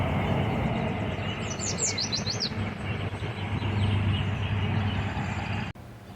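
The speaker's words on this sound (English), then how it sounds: "Many different species of birds are singing and enjoying the warmer weather." Birds of several species sing along a spring river walk, with bright chirps and trills fairly distant over a steady rumble of passing traffic, and no talking.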